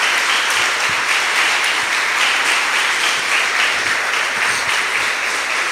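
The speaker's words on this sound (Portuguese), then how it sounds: "Então aplauda o Senhor." A church congregation applauds during a sermon, a thick, continuous roar of clapping from a large crowd that stays loud and even for several seconds, with no speech over it.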